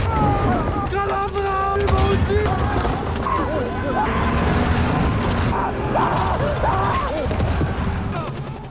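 Gunfire aimed at a tank in a World War I war film, scattered shots and booms mixed into a loud battle soundtrack with voices and music.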